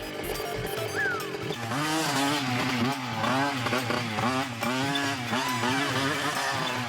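A cartoon vehicle, a special model, has its engine sped up, rising into a loud, wavering revving whine that swells and dips repeatedly over a constant hum, with no talk.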